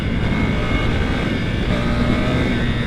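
A Ducati Scrambler Desert Sled motorcycle accelerates in first gear with a steady, loud engine roar that holds close and constant throughout.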